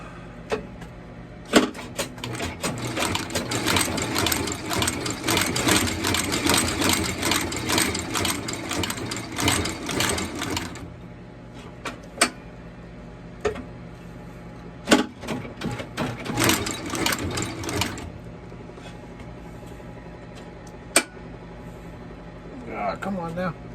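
A sewing machine runs through long bursts of rapid stitching on vintage Vasque leather boots, pausing and restarting with shorter runs, heard up close alongside a few clicks and thumps.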